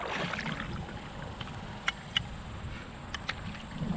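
An 11ft DIY foam and fabric kayak is paddled on a park lake into the wind, giving soft water swishes and a few light drips or knocks over a quiet, breezy background.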